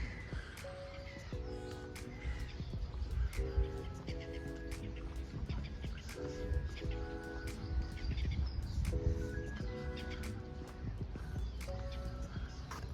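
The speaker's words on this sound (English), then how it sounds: "the most starlings I've seen together around here for a while" A flock of starlings gives repeated chirps, whistles and clicks close by, in dense overlapping bursts over a low background rumble.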